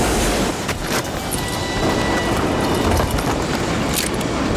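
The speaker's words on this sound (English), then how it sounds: "the train was moving so damn fast" In the video game Darkwatch, set in 1876 Arizona Territory, a fast-moving train gives a loud, dense, continuous rumble with a rattling roar and no break.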